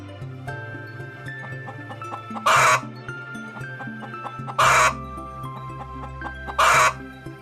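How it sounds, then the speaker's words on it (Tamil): A hen clucks in three short, loud bursts spaced about two seconds apart, set over steady background music. "கோழி"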